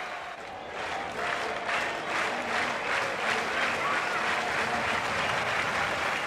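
A cricket crowd at Adelaide applauds steadily during an Australia versus Pakistan match, a broad, continuous wash of clapping that swells slightly after the first second and holds evenly, with faint voices underneath.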